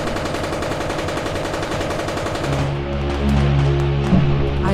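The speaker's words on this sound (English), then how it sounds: "They fired at the approaching ship." Tanks fire at an approaching ship in a loud audio-drama battle effect: dense, rapid volleys of gunfire crackle steadily, then give way to a heavy low rumble with sustained drones and a louder burst near the end.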